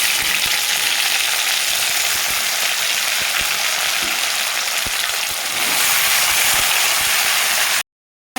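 Cut eggplant goes into a frying pan with potatoes and oil, giving a continuous dense sizzle with small crackles and a brief swell, ending in sudden silence, with no talk.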